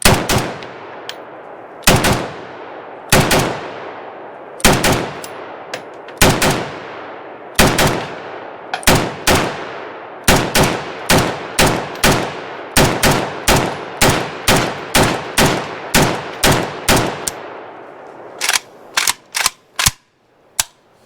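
An Arsenal SAM5 rifle in 7.62x39 fires Phoenix ammunition outdoors, loud sharp reports with ringing decay, first spaced single shots, then a long quick string, ending in a fast final volley.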